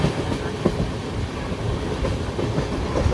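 The Bandra Terminus–Virangana Jhansi superfast special train runs on rails near Vadodara, with a continuous loud rumble and irregular clickety-clack wheel knocks heard from inside the moving train.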